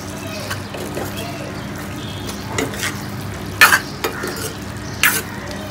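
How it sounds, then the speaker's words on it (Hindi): A potato and long bean curry is stirred after garam masala goes in. Low simmering and sizzling runs steadily underneath, and a few sharp clinks of the spoon against the pot stand out near the end. "और इसको हम अच्छे से मिक्स कर लेते हैं।"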